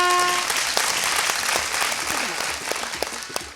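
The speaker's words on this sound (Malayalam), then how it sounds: "ഞാൻ കൈയടിച്ച് എന്തിനാന്നറിയോ?" Studio audience applause on a Malayalam TV game show, a dense burst of clapping that is loud at first and slowly thins out over a few seconds.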